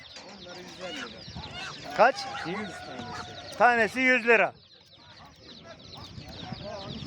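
Village chickens cluck and squawk in bursts at a busy poultry market in Sungurlu, Çorum, with a loud run of calls in the middle while vendors and buyers talk over them.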